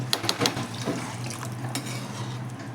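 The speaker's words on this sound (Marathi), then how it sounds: "आता आपण पाणी घालून घेऊयात त्यामध्ये." Spiced moth bean rice cooking in a pot as water is added, with sharp metallic clinks of a utensil against the pot and a soft watery wash underneath, close and without talk.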